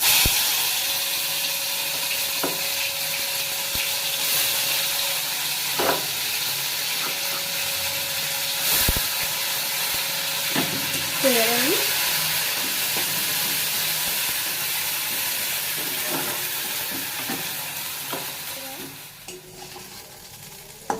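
Ground leaf paste frying in a wok with nigella seeds and dried red chilli, a continuous close sizzle and hiss broken by repeated scraping and stirring strokes of a spatula, fading slightly near the end.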